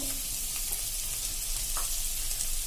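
Spice masala sautéing in oil in a pan for a Punjabi-style stuffed chili gravy: a steady, close sizzle and crackle, with faint stirring scrapes and no talk.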